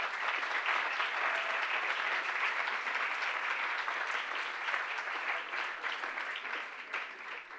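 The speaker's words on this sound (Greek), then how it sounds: "θα είναι άδικο να μην χειροκροτήσουμε και τις χοροδίες μας" An audience at a Cypriot commemorative event applauds the boys' and girls' choirs, a dense, sustained clapping that holds steady before thinning slightly toward the end.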